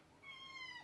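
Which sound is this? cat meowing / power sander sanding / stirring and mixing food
cat meowing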